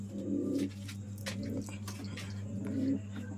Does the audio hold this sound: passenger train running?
no